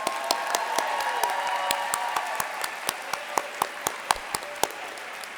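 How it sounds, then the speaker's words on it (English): A crowd at a nursing recognition ceremony applauds steadily, with a few louder individual claps standing out as the clapping continues. "Could we have one more big round of applause?"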